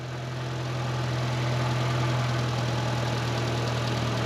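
A car engine runs steadily after a jump start, having sat unstarted for about a month, producing a close, loud, continuous idle with a deep low hum and slight knocking texture, and no voices.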